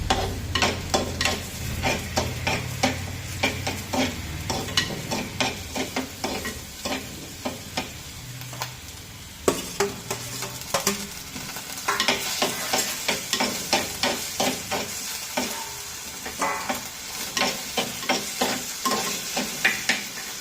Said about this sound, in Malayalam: ചെറിയ സവാളയാണ് അരിഞ്ഞു വെച്ചിരിക്കുന്നത് അത് ഇട്ട് കൊടുത്തു അത് നന്നായി വഴന്നു വന്നപ്പോൾ തക്കാളിപ്പഴവും ഇട്ട് കൊടുത്തു